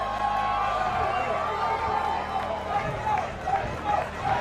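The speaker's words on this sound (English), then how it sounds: "We have some sort of fiesta going on in the crowd right now." Crowd at a karate combat match roars and cheers continuously, a loud dense wash of voices in the arena with a commentator talking over it.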